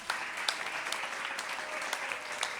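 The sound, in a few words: audience applause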